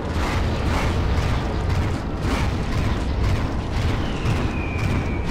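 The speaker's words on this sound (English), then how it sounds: "Ooh, yay! Fireworks, yay!" Fireworks explosions in the video game Painkiller, set in a palace level: a dense, continuous barrage of loud bursts and crackling booms with a brief whistling streak near the end, and no talk.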